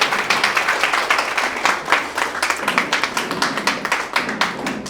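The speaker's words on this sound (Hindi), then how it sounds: "एक बार जोरदार तालियां इनके लिए।" An audience at an RCM success-story gathering claps for Lata with a burst of sharp, closely spaced hand claps that stays loud and steady for about five seconds, with no talking over it.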